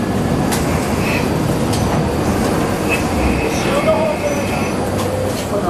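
A Tsugaru Railway train pulling into a station, with a steady loud rumble of wheels and rail noise, faint clicks and brief squeals as it slows.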